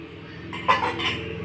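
A metal lid is set down on a pot of simmering fish curry, giving a short clatter and clink close by over a quiet kitchen background, with no speech.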